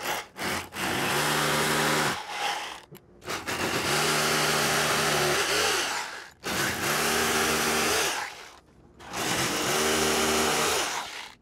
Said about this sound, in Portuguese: E agora a gente pega e faz a perfuração aqui, ó.